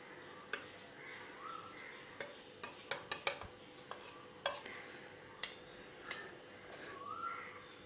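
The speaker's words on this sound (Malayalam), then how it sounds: "അപ്പോൾ നമുക്ക് ആദ്യം ഇറച്ചിയിലേക്ക് ഇതൊക്കെ ഒന്ന് മിക്സ് ചെയ്ത് വെക്കണം." Spice powders being stirred and mixed into raw beef by hand for a Kerala-style beef fry, giving soft, steady squelching and rubbing with several sharp clinks of a utensil against a bowl, fairly quiet and close with no talking.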